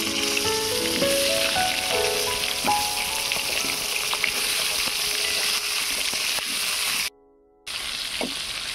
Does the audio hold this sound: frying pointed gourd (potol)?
yes